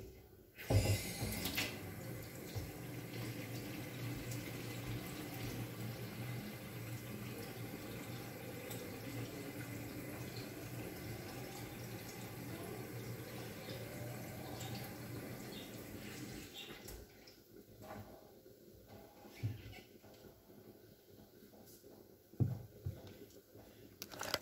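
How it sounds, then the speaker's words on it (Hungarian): Cold tap water running into a cooking pot, a steady close splashing stream for most of the time that then eases off, followed by a few quieter drips and clanks in the sink. "Úgy kb. Ennyi hideg víz, bár ez lehet, hogy túl sok"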